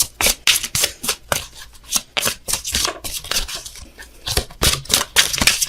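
Oracle cards being shuffled by hand before a draw, a steady run of crisp riffling bursts repeating close and alone with no voices.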